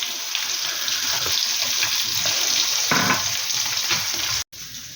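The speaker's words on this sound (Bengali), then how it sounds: "এখন জাস্ট মাছটা ভাজছি" Fish sizzling steadily in a hot pan, a dense continuous frying hiss with faint clatter, close and fairly loud, ending in a brief cut.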